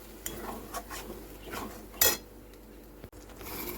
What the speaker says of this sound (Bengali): 2-3 মিনিট এটাকে কষিয়ে নেব, পোস্ত আদা কাঁচা গন্ধটা যাতে বেরিয়ে যায়।